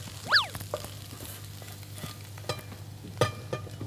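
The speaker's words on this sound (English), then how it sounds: "Just keep stirring? Keep stirring." Scrambled eggs are stirred in a pan with a soft, steady sizzle, a few scattered scrapes and taps of the utensil, and a brief squeaky chirp early on, close and fairly quiet.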